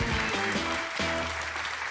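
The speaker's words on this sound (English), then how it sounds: "Give them a round of applause." Quiz-show studio audience applause swells briefly and fills the room, dense clapping mixed with a short musical sting.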